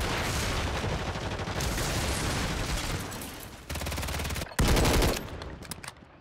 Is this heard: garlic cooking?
no